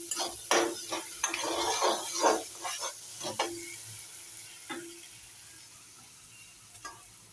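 Meat frying with spices in a pan on a home stove, steady hiss and sizzle under repeated scraping stirs of a utensil against the metal, close, fading to quieter sizzling toward the end, no voices.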